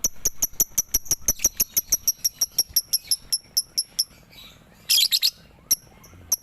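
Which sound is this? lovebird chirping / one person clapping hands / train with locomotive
lovebird chirping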